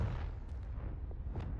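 Low rumbling boom of the Confringo fire spell blast in Hogwarts Legacy, a dull heavy thump with a rolling tail that stays dense and fairly loud throughout, no voice over it.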